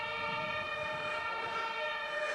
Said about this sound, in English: Serenaded by the beautiful sound of sirens.